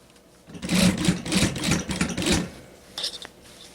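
Sewing machine stitching the back seam of a daily-wear hanbok top, a loud close burst of rapid mechanical whirring for about two seconds, then a short second run after a pause.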